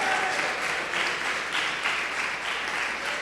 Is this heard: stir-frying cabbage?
no